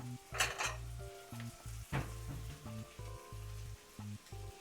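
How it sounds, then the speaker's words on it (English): Seared chicken thigh sizzles steadily in a pan while utensils stir and clink against it, with a low kitchen hum underneath and no talking. "The sizzle of the chicken is legitimately an ASMR."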